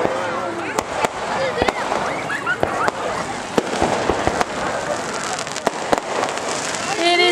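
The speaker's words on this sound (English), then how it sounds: "Oh, fireworks." Fireworks pop and crack in sharp, irregular bursts over a noisy crowd at a Japanese summer festival, with people talking throughout.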